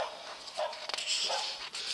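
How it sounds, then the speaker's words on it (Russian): A dog gives a few short yips and barks, fairly close, with brief bursts spread across a couple of seconds and no talking. "Собака."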